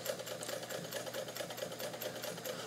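A two-tone turquoise 1950s White Model 1563 sewing machine, Japanese-made, sews a short close zigzag stitch, a steady rapid mechanical whirr with even pulsing, close and alone with no voices.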